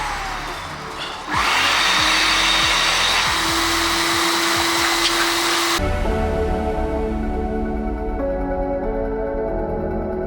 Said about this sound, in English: And then onto our shampoo machine.